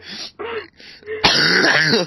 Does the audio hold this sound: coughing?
yes